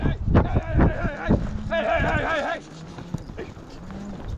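Beef and dairy cows moo loudly and close by while being sorted at a pond, several drawn-out calls overlapping amid hoof clatter and stirring movement, with people talking.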